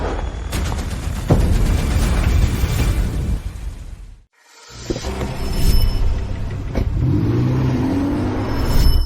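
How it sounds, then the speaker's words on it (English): A car pulls up with its engine revving loudly in two bursts, separated by a brief silent cut, with a low rumbling roar throughout and no talking. "Isn't this the car I gave Blake Reed? Why is she driving it?"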